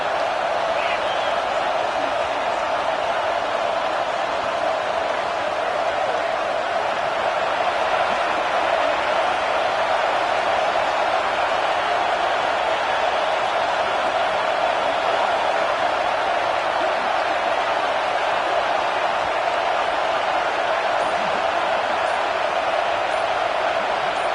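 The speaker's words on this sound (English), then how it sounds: "This crowd trying to make life miserable for this offense." Stadium crowd in a Madden football game, a steady, unbroken roar of many voices holding at one level, with commentators talking over it.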